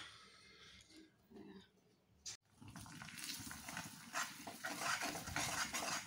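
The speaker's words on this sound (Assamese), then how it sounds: "ভাতকেৰেলা আৰু আলু এইখিনি ভাজিলোঁ" Bitter gourd and potatoes frying in a pan and being stirred, a clattering, scraping stir with a steady sizzle that grows louder after a short pause, close by, no talking.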